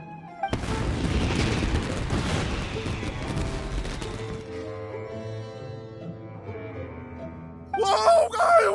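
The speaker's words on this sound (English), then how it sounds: "Yoimiya, this is turning into a bit of a fireworks display." Fireworks bursting in the game Genshin Impact, a loud dense rumble of explosions and crackles that fades into a ringing tail, followed by a brief burst of game sound near the end.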